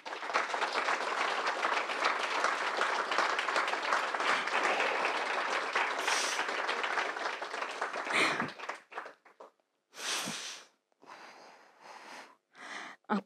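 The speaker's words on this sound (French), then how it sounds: "j'aimerais qu'on les applaudisse bien fort" An audience claps loudly and steadily for several seconds, then the applause breaks off into brief separate bursts of clapping and rustling with short silences between them.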